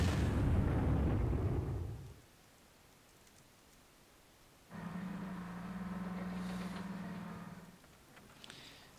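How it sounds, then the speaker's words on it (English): Artillery bombardment in the Panzer Corps strategy game: a loud, rumbling blast opens and dies away within two seconds, and after a quiet gap a steady droning tone holds for a few seconds. "Keep bombarding."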